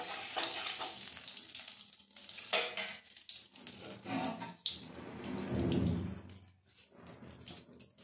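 Cauliflower pieces frying in mustard oil in a pan, a close crackling sizzle with stirring clatter and shifting bursts, fairly faint overall.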